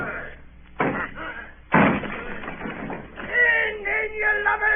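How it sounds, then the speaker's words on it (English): A door is battered and broken down in an old radio drama, two heavy slamming blows landing amid shouting voices and crowd commotion. "Down with the door, then!"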